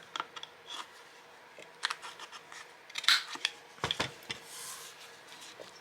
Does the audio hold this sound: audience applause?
no